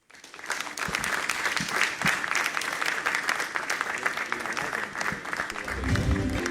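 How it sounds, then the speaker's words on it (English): A large awards-ceremony crowd in Ghana breaks into applause as a presenter is welcomed to the stage, dense, steady clapping with sharp individual claps close by, continuing throughout, with a low rumble near the end. "Please help me with a big round of applause to welcome up here to the stage, Na Anyama Macaulay."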